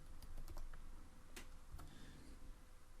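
A few sparse, quiet keystrokes on a computer keyboard, spaced irregularly over a low background hum, with no voice.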